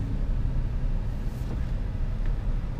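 A 2017 Toyota RAV4 Hybrid XLE AWD accelerates along a road, a steady low rumble of engine and road noise from inside the cabin with no clear rise in pitch.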